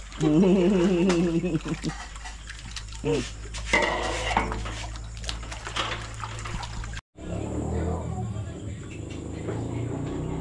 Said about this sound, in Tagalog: Naghuhugas ng ano, plato yung magkapatid.